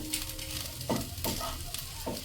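Egg masala pasta with a little soy sauce is stirred and tossed in a hot pan, with a soft sizzle broken by a few scraping strokes of the spoon.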